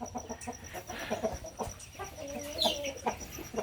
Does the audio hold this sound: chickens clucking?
yes